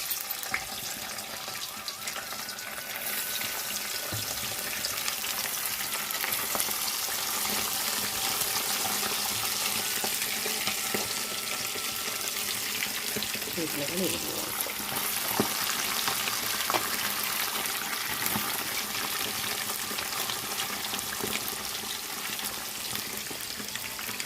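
Chicken pieces for pickle fry in warm peanut oil with a continuous bright bubbling sizzle that stays even and fairly close throughout, with occasional light stirring and water-like splashes and no voices.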